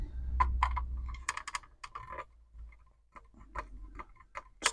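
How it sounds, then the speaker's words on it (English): Screwdriver clicks while driving screws into the plastic parts of a Fanhome Fast & Furious Dodge Charger R/T scale model, with sharp close ticks spaced irregularly over a low hum. "I'm just going to get me with a screwdriver."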